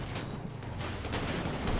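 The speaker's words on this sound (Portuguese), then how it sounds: "Rebenta de tiro, rebenta de tiro, velho." Gunfire in the video game GTA V. Dense, rapid shots rattle continuously at a steady, moderately loud level with no pauses.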